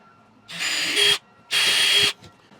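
Power drill boring holes into the wooden frame of a Vardo Romani wagon, two loud, steady whirring bursts of about half a second each with a short pause between, close up and with no talking.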